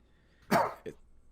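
A single short cough, close and fairly loud, followed by a smaller second burst, in an otherwise quiet moment.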